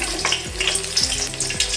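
Steady sizzle of chopped garlic frying in hot oil, with a few low clinks and scrapes of stirring in the pan.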